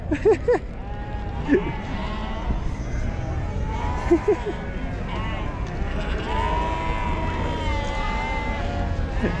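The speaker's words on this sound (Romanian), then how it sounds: "Uite și alpaca de vânzare." Alpacas for sale in a South American market setting give several wavering bleats, some close and loud, others farther off, amid background chatter and crowd noise.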